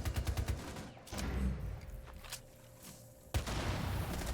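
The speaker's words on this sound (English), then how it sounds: "First gunshots do come in from Rixie." Bursts of gunfire in Rainbow Six Siege during a competitive controller match, with rapid shots early, scattered pops through the middle and a sharp loud shot near the end, set over game ambience.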